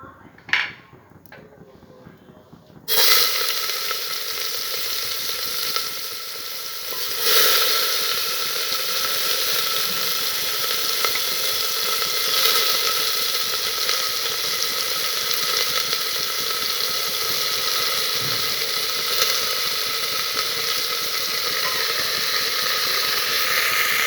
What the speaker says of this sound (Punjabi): ਇਧਰ ਤੇਲ ਆਪਣਾ ਗਰਮ ਹੋ ਚੁੱਕਿਆ ਹੁਣ ਇਹਦੇ ਵਿੱਚ ਸਭ ਤੋਂ ਪਹਿਲਾਂ ਆਪਾਂ ਪਿਆਜ਼ ਪਾਵਾਂਗੇ